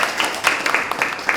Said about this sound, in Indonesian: Kita boleh kasih tepuk tangan dulu dong buat Tuhan kita.